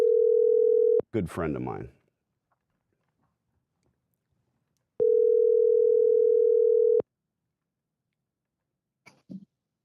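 A telephone ringback tone sounds as a steady, loud tone lasting about a second, then again for two seconds after a pause, with a brief spoken phrase between the rings.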